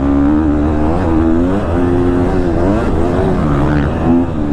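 A 2022 KTM 250 SXF four-stroke dirt bike being ridden, its engine droning loud and close with steady revving that rises and falls throughout.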